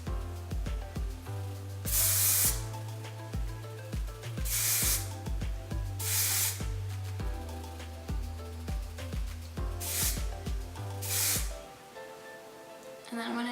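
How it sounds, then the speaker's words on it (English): Several short bursts of hairspray hiss, each a second or so long, repeated at irregular intervals over soft background music. "So I'm gonna spray up at the top a little bit,"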